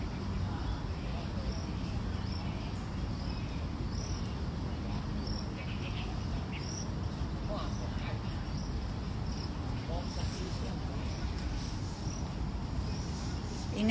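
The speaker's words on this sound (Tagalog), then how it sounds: "Ingay-ingay ng tipaklong ng mga tao dito guys." Grasshoppers chirp at a campsite in Taiwan, a continuous high, evenly pulsing insect trill over a steady outdoor noise bed throughout.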